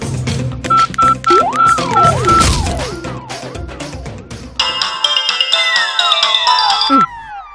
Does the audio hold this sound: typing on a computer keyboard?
no